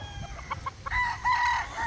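A young tethered rooster (stag) crows, with a few short clucks first and then drawn-out crowing calls at moderate distance, alone without talk.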